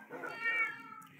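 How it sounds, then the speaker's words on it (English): A calico cat in Minecraft gives a single short, clear meow, rising and then falling, heard alone and up close without any talk over it. "The calico cat."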